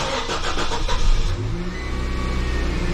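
A 2014 Nissan Frontier with a 2.5 L engine cranks for about a second, fires up and settles into a smooth, steady idle, close and loud.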